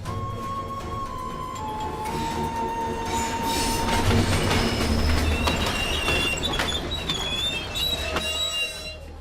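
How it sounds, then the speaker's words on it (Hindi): A train arriving at a station, loud and close, with rumbling wheels, clattering rail joints and sustained high metallic wheel squeals and screeches that swell in the middle and carry on to the end. "मेरी ट्रेन आ गई है, गुड बाय।"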